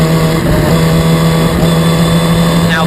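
Historic Formula Ford race cars at Snetterton roar past loudly and close with a continuous engine drone and a pitch shift near the end, while a commentator talks over it.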